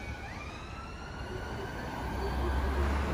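Ambulance and police sirens pass at a distance, their faint wailing glides sitting over a low, rising rumble of road traffic.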